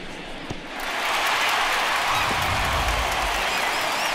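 A home crowd in MLB The Show 19, Padres versus Rockies, swells into loud sustained cheering and applause after a home run, rising within a second and holding steady.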